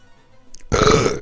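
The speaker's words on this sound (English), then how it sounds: "Oh, second burp." A single loud, drawn-out burp from the Breath of Fire game, rising after a faint lead-in and lasting about half a second, clear and up close.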